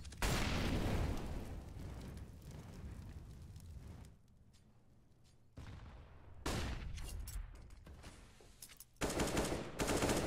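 AK-47 gunfire in Counter-Strike on the Dust2 map roars in long, loud automatic bursts with brief gaps and a quieter stretch in the middle. The bursts are dense and close.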